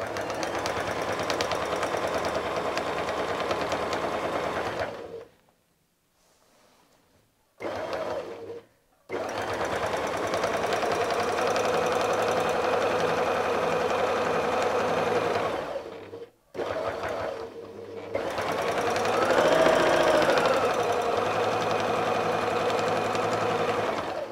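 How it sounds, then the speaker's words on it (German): A sewing machine runs a straight stitch along a quilt appliqué fin in long steady whirring bursts, stopping briefly twice for turns before sewing on. "Wir stellen wieder den Geradstich ein, versenken unsere Nadel und nähen nun unsere Flosse ein paar Mal mit diesen gerade"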